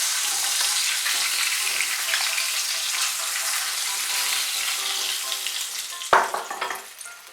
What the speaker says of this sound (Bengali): এই দেখুন, মুড়োটা আমার ভাজা হয়ে গিয়েছে।